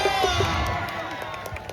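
A kusti wrestling match crowd at an open-air maidan bursts into cheering and shouts, a brief close roar of many voices with whoops that fades slightly over under two seconds.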